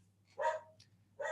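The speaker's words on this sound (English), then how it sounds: "You might hear a bit of background noise, everyone. Barking dog." A dog barks twice in the background of a home setting, two short distant yaps about a second apart over a quiet room hum.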